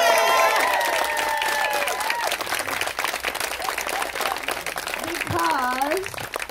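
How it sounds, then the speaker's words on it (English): A cookout crowd applauds and cheers for a state senate candidate, dense clapping filling the whole stretch while a voice speaks over the start and more voices rise near the end. "can we have a round of applause for our next state senator,"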